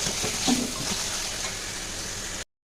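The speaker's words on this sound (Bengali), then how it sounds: "তো আরেকটু আমি কষিয়ে নেব।" Chicken, onion, tomato and spices sizzle and fry in oil in a pan, giving a steady close crackle with a brief stirring scrape before it cuts off.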